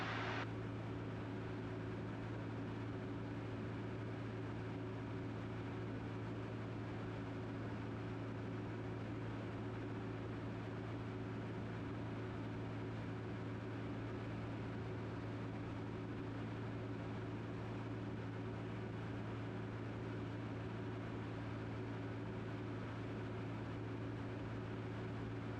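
Cabin of an RV-10 light aircraft in cruise at about 70% power and 2,200 RPM, a steady loud engine drone with constant low hum and broadband rush filling the cabin, no speech.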